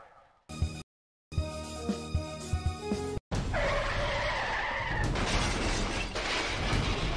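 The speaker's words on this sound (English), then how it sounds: "Involved in a car accident?" A staged car crash effect: tires skid and squeal in a long, loud screech, then a heavy impact breaks into shattering debris that rings on, with no talk.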